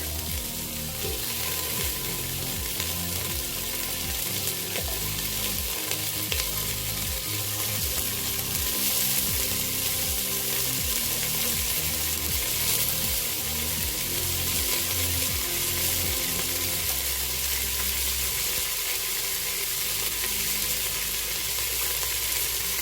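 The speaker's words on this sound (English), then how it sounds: "Add oil, add beans, fry it for a second, then add carrot" Beans and carrot sizzle in hot oil for fried rice, a steady, close crackling fry with occasional stirring scrapes, continuous and loud with no talk.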